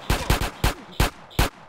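Gunfire from attackers in GTA San Andreas: five or six sharp, close shots in an uneven quick burst, each a hard crack with a brief tail.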